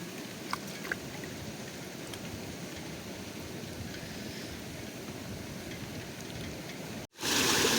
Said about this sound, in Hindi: अभी ज़्यादा बारिश हुआ नहीं है।